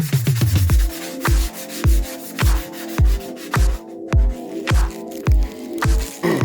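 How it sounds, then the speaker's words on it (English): A mini bike's metal frame is scuffed by hand before painting, with steady back-and-forth abrasive strokes repeating in a regular rhythm, close and fairly loud, with no talking. "So let me scuff this up and then we'll see where we're at in a minute."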